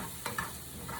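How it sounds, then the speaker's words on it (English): Mushrooms in a teaspoon of olive oil hiss in a pan with a steady frying sizzle, broken by a couple of soft scraping stirs, faint and close. "Let me stir these mushrooms up a little bit. Get the olive oil all over, incorporated and whatnot."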